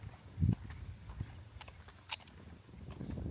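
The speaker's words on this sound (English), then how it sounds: "saw these horses" Horses being walked around a visitors area at Point Reyes, California, with a few dull, irregular hoof thuds close by over low outdoor rumble, no talking.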